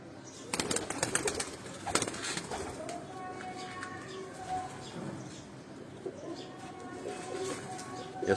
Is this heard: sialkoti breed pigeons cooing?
yes